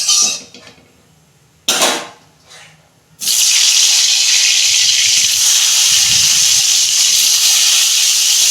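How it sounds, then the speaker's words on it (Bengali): Eggplant frying in hot oil in a kadai for a shrimp and eggplant dish, a loud steady sizzling hiss that starts abruptly after a few brief bursts and continues alone to the end. "বেগুনটা ভেজে নেব।"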